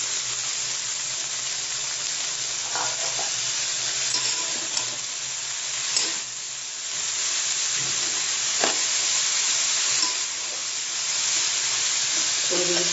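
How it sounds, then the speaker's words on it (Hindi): Greens tossed into a pan of frying potatoes and soya chunks sizzle steadily and loudly, broken by a few sharp clanks of stirring, with no speech over it. "अच्छी तरह से फ्राई हो गया है, इसमें हम डाल देते हैं साग"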